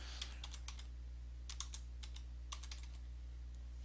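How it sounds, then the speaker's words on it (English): Keystrokes on a computer keyboard while entering a DNS reverse-lookup address on a SUSE system, coming in quick clustered bursts with short pauses between them, close and fairly quiet over a steady low hum. "I had to type this out so I get the right address"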